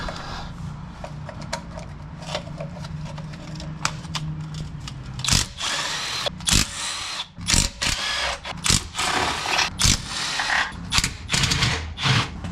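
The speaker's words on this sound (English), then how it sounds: "So let's go ahead and keep taking out all these bolts." Several short, loud bursts from a power tool, likely a drill or impact driver, backing bolts out of a GM truck engine that has low oil pressure and oil leaks. The bursts are close and repeated after a quieter stretch of shop background.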